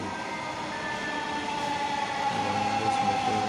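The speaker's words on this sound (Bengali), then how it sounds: "Bangladesh metro rail" A Dhaka metro train runs at Shewrapara station, a steady close rumble of rolling wheels and carriages with a thin, sustained metallic squeal riding on top throughout.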